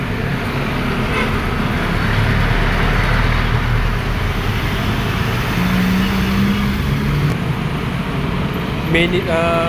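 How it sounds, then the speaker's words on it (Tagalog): Philippine jeepneys and buses, including a minibus, rolling past on a busy roadside at Balsahan, Binakayan, Kawit, with loud continuous engine drone, tyre roar and passing-vehicle swells, plus a brief horn-like tone near the end. "tapos na jeepney na Tulisan, tapos na jeepney pa rin"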